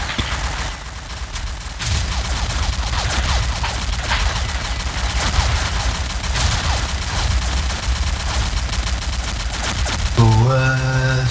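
Rapid, sustained gunfire with bursts of shots from the online shooter game Combat Arms, loud and nearly continuous throughout, ending in a brief tonal game sound.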